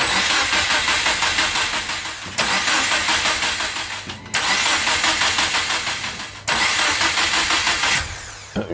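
A Subaru Impreza engine cranks repeatedly in four long attempts, the starter churning loudly and close with brief pauses between tries, without settling into a steady idle.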